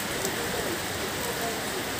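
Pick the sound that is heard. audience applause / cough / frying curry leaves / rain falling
rain falling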